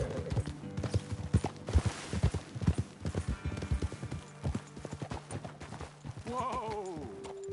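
Horses' hooves clip-clop in a console video game, a brisk uneven clatter of several hooves that slows and stops, followed by a horse's whinny at the end.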